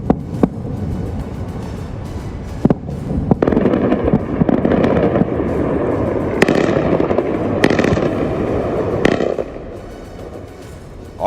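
Airstrike explosions over Iran crack and boom in a dense, continuous barrage, with sharp repeated bangs over a rumbling roar, loud and close throughout with no talking.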